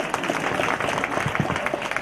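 Steady audience applause at a motivational talk, dense clapping from a crowd filling the whole stretch at an even, moderate level without a break.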